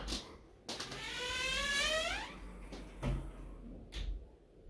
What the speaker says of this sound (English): Now it's pulled the door to, which is enough for me.